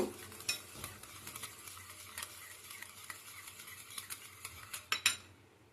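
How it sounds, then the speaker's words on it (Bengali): Egg and sugar whisked together in a bowl for a homemade cake, giving rapid scraping and clinking strokes of utensil against the bowl, close and fairly quiet with irregular louder taps. "দেখো চিনিটা আর ডিমটা ভালো করে গুলে ফেলেছি"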